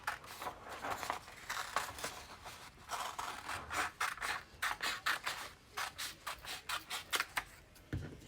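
Scissors cut out a styrofoam printmaking piece, snipping in quick rhythmic bursts, close and moderately loud, with short pauses between runs of cuts and no voices.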